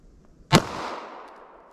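A single sharp 9mm shot from a Speer G2 Gold Dot hollow point fired into ballistic gel behind a fiberboard barrier: one loud crack followed by a reverberant tail that fades over about a second, with no voices.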